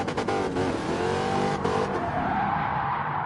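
Car engine in a racing video game revving hard toward its 6,000 RPM redline, a loud continuous engine roar with rising pitch and tire squeal, heard alone without talk.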